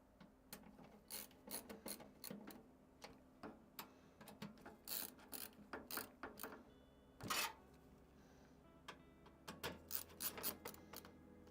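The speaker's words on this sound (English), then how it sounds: "Let's get them all tightened down." Screws are tightened down during a PC build, a series of quiet, close ratcheting clicks and rasping turns in short bursts with pauses between them, then more rapid clicking near the end.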